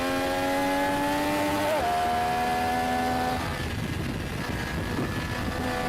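Loud, close Italian motorcycle engine revving with clear harmonic tones that rise and then drop sharply as the throttle is released, leaving a rougher idle beneath.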